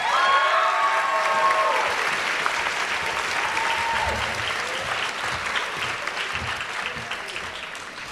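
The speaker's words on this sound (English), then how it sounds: "Please join me in a round of applause for Bravo Company." Loud, sustained applause and some cheering from the audience at a high school JROTC awards ceremony honoring Bravo Company, a dense wash of clapping that fades slightly toward the end.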